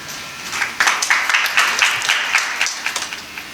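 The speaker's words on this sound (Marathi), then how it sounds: "टाळी वाजवा एकदा" A crowd at a devotional kirtan gathering claps in a loose, rapid rhythm of many hands, bursts swelling and then trailing off.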